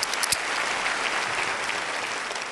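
Applause from a comedy show audience, a dense, even wash of clapping that stays steady and full from start to finish.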